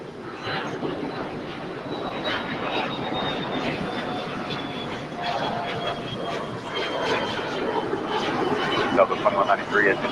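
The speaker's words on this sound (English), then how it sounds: "Avianca A320 Neo coming in from San Salvador, flight 522." Avianca Airbus A320neo jet arriving at LAX from San Salvador: a steady, moderately loud engine roar with a faint whine throughout, swelling slightly near the end, under someone talking and radio chatter.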